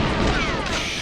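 An explosion in the Nintendo 64 game GoldenEye 007: a dense, loud one-second crash of broadband noise, steady throughout and standing alone without talk.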